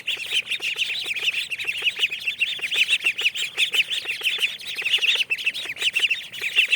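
Ducks crowding and calling at feeding time, a dense, continuous chorus of rapid high-pitched peeps and calls from several birds nearby, with no talking.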